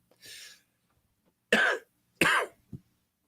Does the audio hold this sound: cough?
yes